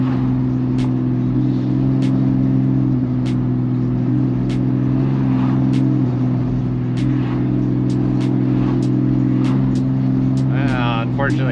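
A turbocharged Dodge Challenger SRT8 engine drones loudly and continuously while driving, a steady low throbbing hum with occasional sharp clicks and a rising whine near the end.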